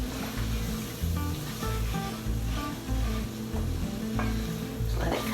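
Onions sizzle in butter in a pan as plain all-purpose flour is stirred in, a dense continuous frying hiss with a low rumble, fairly loud and close.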